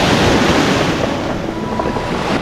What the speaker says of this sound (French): On va attendre la vague.